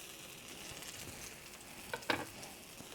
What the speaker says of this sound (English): let's go ahead and get that face down in the oil, let that sizzle